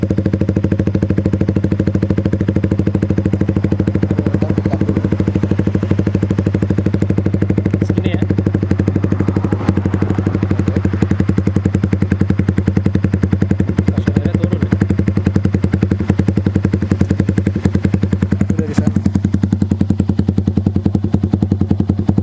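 Motorcycle fitted with a Proliner TR1 exhaust, idling in a loud, steady, close throb with a deep, even pulse and a faint clatter throughout, with no voices.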